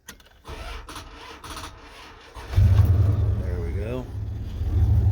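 A Dodge or Ford vehicle, worked on for loose steering, cranks and its engine turns over and starts up midway, settling into a louder close rumble, while someone talks quietly over the first part.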